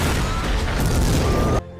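A loud, sustained roaring explosion after an aircraft wing falls, with crackling debris filling the clip, then cutting off abruptly into quiet.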